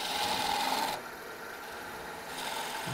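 Wood turning gouge cutting a cove on a lathe, a steady abrasive rasping hiss that drops to a softer whir midway, then picks up again near the end, close and continuous with no talk.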